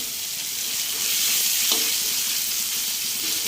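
Food frying in a pan before soaked flattened rice goes in, a loud, steady close sizzle with a faint stir partway through.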